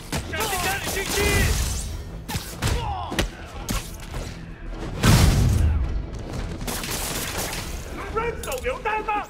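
Grenade blast in the Spider-Man video game, a heavy boom landing midway among repeated thuds and crashes of combat, with a voice talking over the action.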